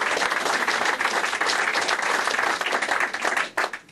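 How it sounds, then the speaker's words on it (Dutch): A crowd at a 90th birthday celebration breaks into sustained, dense applause, loud and steady for several seconds before tapering at the end. "Applaus."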